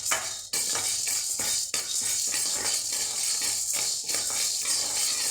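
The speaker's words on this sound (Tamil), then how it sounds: "இந்த கடலைப்பருப்பையும் உளுத்தம் பருப்பையும் நம்ம நல்லா வறுத்து எடுத்துக்கலாங்க." Chana dal and urad dal dry-roasting in a pan, giving a steady dense rattle and sizzle with repeated sharp scrapes and knocks of stirring, close and fairly loud throughout, with no voices.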